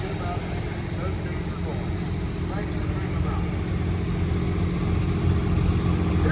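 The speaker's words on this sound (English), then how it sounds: "That's a real farm tractor." A John Deere 4440 farm tractor rumbles past in an antique machinery parade, its engine giving a steady, continuous drone amid broad outdoor background noise, with no clear voices over it.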